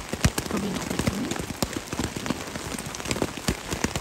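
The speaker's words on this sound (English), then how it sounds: "it only started raining for like the last hour" Rain falling steadily on the Appalachian Trail, a dense close patter of drops striking a nearby surface, with a few louder individual impacts, no voices.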